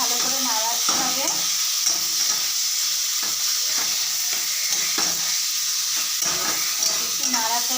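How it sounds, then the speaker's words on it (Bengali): Olives being stirred in a hot pan for olive chutney, a spoon scraping in repeated strokes over a constant sizzle, close and fairly loud, with no one speaking. "এবার এই জলপাইটা একটু ভালো করে নাড়াতে হবে।"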